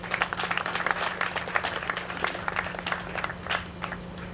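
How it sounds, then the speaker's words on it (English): An audience at an auto dealers association meeting in Festac Town claps in a fairly faint, scattered round of applause, with a steady low electrical hum underneath. "We will give him the hand of applause."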